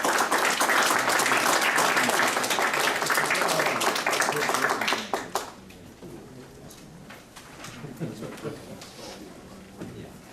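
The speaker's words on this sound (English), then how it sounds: "let's give Assistant Secretary Countryman a big round of applause" Applause from an audience at a summer symposium rings out strongly for about five seconds, then fades into scattered claps and murmuring voices.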